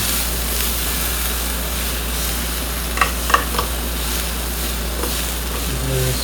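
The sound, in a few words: scraping burnt bits off a sizzling pan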